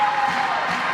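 Applause from spectators in a gym in Ussana after an under-18 women's volleyball final, a brief mixed crowd sound of clapping and murmuring with a light cheer, fairly loud and close.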